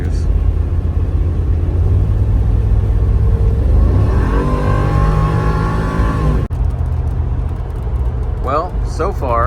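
A Mercedes G55 AMG drives down the road, its engine a steady close drone that swells as it accelerates mid-drive before easing off, with someone talking over it near the end.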